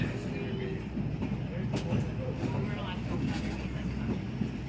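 A heritage railway car rolls along an old line at Port Stanley beside a creek harbour, a continuous low rumble and rattle of the moving train with faint people talking in the background.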